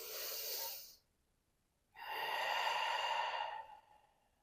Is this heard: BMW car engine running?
no